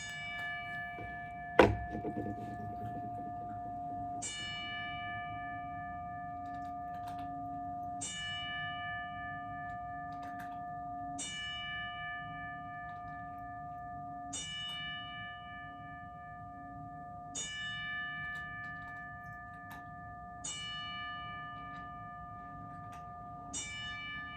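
A bell tolls repeatedly in tribute, struck about ten times at slow, fairly even intervals, each ring leaving a long, clear, sustained hum. A single sharp thunk comes early on, with no one talking.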